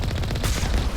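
Turret gunfire in the sci-fi game Mass Effect, a dense run of rapid, loud shots with a heavier boom partway through and a thin whine near the end.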